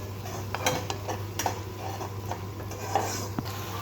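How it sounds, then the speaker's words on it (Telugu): A spoon stirs tomato pieces frying with eggplant in a pan, giving irregular clinks and scrapes against the metal over a faint sizzle and a steady background hum. "ఇప్పుడు ఇందులోనే టమాటా ముక్కలు కూడా వేసుకొని కొంచెం మెత్తబడేటట్టు కొంచెం వేపుకుంటే సరిపోతుంది"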